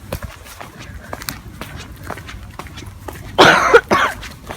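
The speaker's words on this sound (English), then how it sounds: "Still got my cough." A person coughs twice in close succession, two loud, harsh bursts near the end against a quiet indoor background with faint scattered noises.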